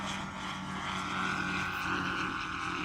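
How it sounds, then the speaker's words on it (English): A scale-model P-51 Mustang airplane flies past at the Oshkosh airshow arrivals, its engine a steady, moderately distant drone with a tonal whine that holds throughout, no talk over it. "This is a scale Mustang."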